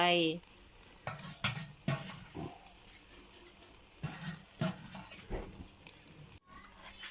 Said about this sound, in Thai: กระเทียม ย่างไฟอ่อนๆ ไฟปานกลางสีได้เหลืองพอดีจ้ะ